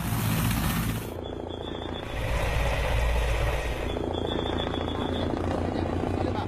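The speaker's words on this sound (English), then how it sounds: "2 of the boys are taken away. Not by ambulance, but by helicopter." A rescue helicopter flies boys out from the Thailand cave rescue, its loud steady rotor and engine roar continuous and close, with a voice talking over it.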